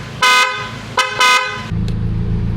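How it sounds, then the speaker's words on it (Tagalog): Two loud, close honks from a newly fitted horn on a Honda Civic FD, a short beep followed by a longer one, then an engine idling in the background. "Try mo. Busina mo."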